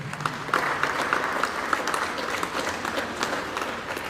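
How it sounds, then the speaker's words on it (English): Steady applause from a sizable crowd, many hands clapping continuously at an even level throughout. "Please give him a round of applause."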